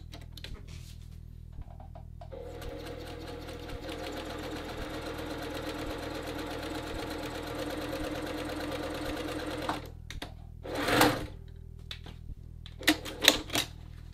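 A domestic sewing machine runs steadily for several seconds stitching the corner of a men's dress shirt, then stops; a few clicks and a brief rustle of fabric or thread follow near the end.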